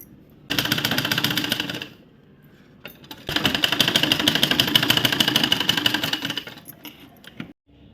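Sewing machine stitching fabric for a baby's bunny cap, running in two fast rhythmic bursts split by a short pause, close and loud with no speech.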